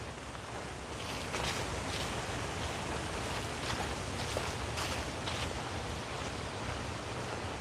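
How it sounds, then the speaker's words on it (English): Wind moves through the treetops overhead and rustles the leaves, a soft, steady broadband whoosh that rises and falls gently, heard faintly from a distance with no speech. "Now you hear the wind up above now, and just the rustling of the trees up there."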